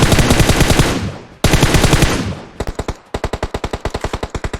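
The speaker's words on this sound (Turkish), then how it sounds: "Böyle vurulmaz böyle vurulur. İşte ben de vurdum." Automatic gunfire in the mobile battle-royale game PUBG Mobile: two long, loud, rapid bursts followed by shorter, sharply spaced shots firing in quick rhythm.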